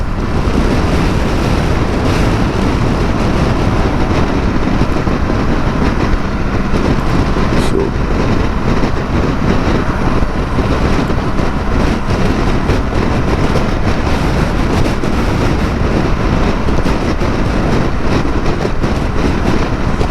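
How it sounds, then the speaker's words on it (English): A BMW GS motorcycle on the move, with a loud, constant rush of wind and engine roar that does not let up, heard from the rider's position. "I'm riding a damn bike"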